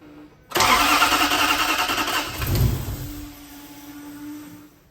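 A supercharged Toyota UZ V8 fitted with an Eaton TVS1900 cranks briefly, then fires and roars loudly up close, settling into a rough idle before the sound drops away.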